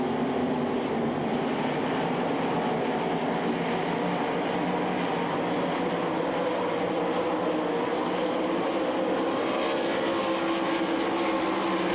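360 sprint cars racing at the Knoxville Nationals, a dense continuous roar of many engines heard at a distance, steady throughout with a slight swell near the end.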